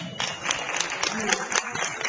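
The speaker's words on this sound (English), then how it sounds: "Round of applause, parents." An audience claps for the parents in the room, a steady patter of many hands filling the space with a few louder claps standing out, brief and unbroken.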